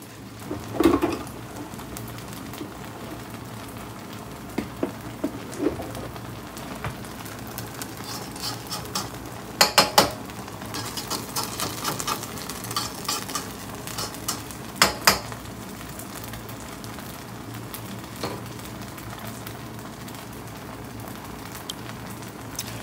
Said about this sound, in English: while the corn is frying for a second there